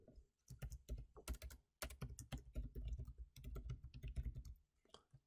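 Rapid typing on a computer keyboard, close and crisp, in irregular bursts of clicky keystrokes separated by short pauses.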